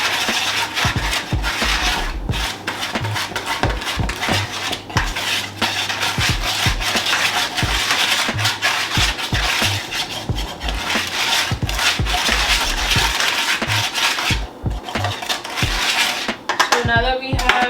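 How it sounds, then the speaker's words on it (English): A whisk scraping and rasping around a bowl, mixing flour with sugar and salt for pumpkin pie, producing a continuous scratchy rhythm of strokes up close with no speech. "we're going to get our handy dandy whisk, and we're just going to mix that together."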